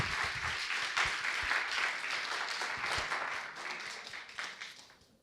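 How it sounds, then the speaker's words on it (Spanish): Audience applause for mothers at a church gathering, a dense, steady wash of clapping hands lasting several seconds before tapering off at the end. "Démosle un aplauso a todas las mamitas que están aquí."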